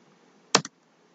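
Two quick keystrokes on a computer keyboard, a sharp click followed by a softer one, close and isolated against near-silence.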